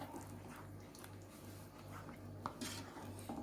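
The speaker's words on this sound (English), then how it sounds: "now I will be adding my ground tomato, onion and cashew nut paste. Just give it a good stir." A thick paste of ground tomato, onion and cashew is stirred in a pan, with faint scraping and clinks of a utensil against the metal over a low steady hum, quiet and close.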